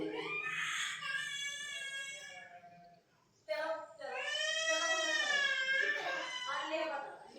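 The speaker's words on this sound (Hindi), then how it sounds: "बच्चे की आवाज आ रही है, रो रहा है, चुप नहीं हो रहा है" A baby cries on and off in a neighbouring house, long wavering wails that run nearly throughout with a short pause midway, fairly loud and clear against a quiet room.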